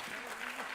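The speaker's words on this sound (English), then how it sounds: "give them a huge clap" An audience at a forum event claps in a steady, dense burst during a brief moment, while a voice carries faintly over the applause.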